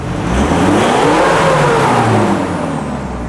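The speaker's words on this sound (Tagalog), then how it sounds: "i-start ko ang sasakyan at tingnan nyo kung ano yung sinasabi kong usok" A car engine with a smoky exhaust revs loudly and close by, rising and then easing back in one sustained run without speech.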